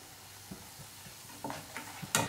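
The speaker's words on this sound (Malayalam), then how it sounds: "അങ്ങനെ തിരിച്ചു മറിച്ചിട്ടിട്ടാണ് ഇത് ഫ്രൈ ചെയ്തെടുക്കേണ്ടത്." Ribbon pakkavada frying in oil over a medium flame: a soft, faint sizzle with scattered small crackles and pops, growing slightly stronger near the end.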